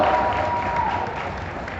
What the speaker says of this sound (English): Everybody, give it a big round of applause